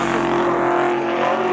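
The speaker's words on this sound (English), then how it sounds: "nson to the inside, Medeiros to the outside, Z28 and Mustang going at it, down into 1" A Chevrolet Camaro Z28 and a Ford Mustang race side by side at a Labor Day spectator drags event, their engines a loud, continuous, steady roar at close range.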